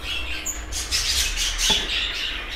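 Female cage bird caught by hand from its nest cage, giving a series of sharp, harsh squawks and shrill calls close by, with a brief rustling bump partway through and no talk.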